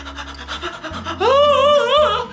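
A person imitates short, shallow panting breaths in quick rhythmic bursts, close and fairly loud, ending in a brief voiced, breathy sound.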